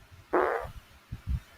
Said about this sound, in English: You just hear the fart just now, didn't you?